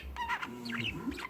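Pet bird named Stuart chirping indoors, a few short tweets and squawky calls close by, rising and falling quickly over a second or so, with no talking.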